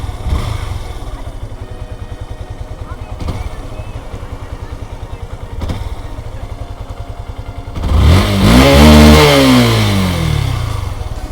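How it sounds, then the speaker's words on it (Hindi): A motorcycle engine with a fault idles with a rapid, even putter whose speed drifts up and down, then swells into a brief rev before settling back toward idle. "अभी RPM एकदम से लो हो गया है यहाँ पे, ये देखिए RPM में फ्लक्चुएशंस आ रहे हैं।"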